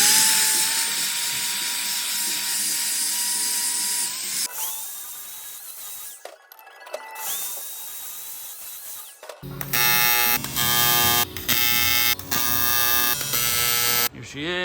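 Steel tubing is welded as a brace onto a mobile hose crimping station, with a steady buzzing hum and bursts of crackling, sputtering arc noise in uneven pulses, interrupted by short pauses.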